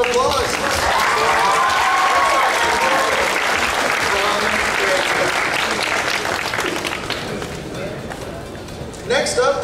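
Audience at a convention costume contest giving a big round of applause, loud dense clapping with cheers that holds steady, then fades toward the end as a voice returns briefly.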